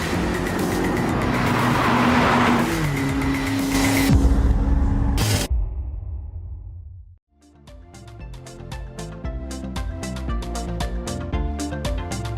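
Ferrari SF90 Stradale sports car engine roaring loud and close for about five seconds, rising and then cutting off; music takes over after a short pause.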